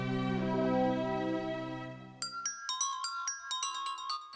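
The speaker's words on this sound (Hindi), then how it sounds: "रिंग बज रही" A phone rings: a sustained electronic tone gives way to a rapid melodic series of bright beeping notes, fairly close and without voices.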